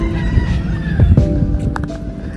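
Roosters roaming the streets of Key West, with crowing and clucking heard against outdoor background noise, fairly close and brief.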